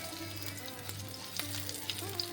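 Chopped green chilli and ginger fry in hot oil and are tossed about, a soft crackling sizzle with a low hum beneath and a few light clicks of the stirring spoon, quiet and close.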